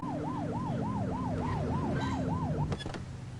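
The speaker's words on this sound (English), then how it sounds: "Get behind them and flip the siren to make them pull over." Police car siren in The Precinct video game, a quick repeating whoop that rises and falls about eight times over engine rumble, then cuts off with a few sharp clicks.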